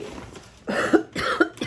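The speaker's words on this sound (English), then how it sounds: "I'm coughing" A woman coughs twice nearby, each a harsh, rough burst with a little throat rasp, separated by a short pause.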